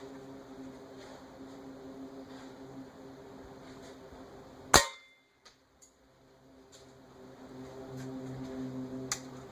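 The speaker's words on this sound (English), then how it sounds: "I'll shoot them both first with a typical pellet like these H&N Barracuda greens" An air gun fires a .22 H&N Barracuda pellet at a fence board outdoors, one sharp crack with a brief ringing tail, followed by a couple of small faint ticks amid quiet background hum.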